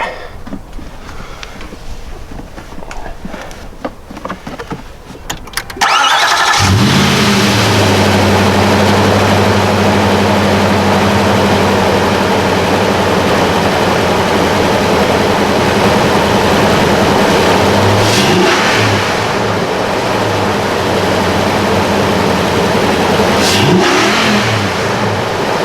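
A Nissan Titan fitted with an Airaid MXP cold air intake starts up and revs in a garage: quiet shuffling, then a loud, close engine roar that holds steady with a few brief throttle blips, no talking.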